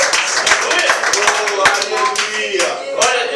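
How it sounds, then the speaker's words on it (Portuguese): A church congregation claps along rhythmically, sharp hand claps close by and mixed with voices calling out and talking over the clapping. "Os irmãos podem aplaudir o Senhor Jesus"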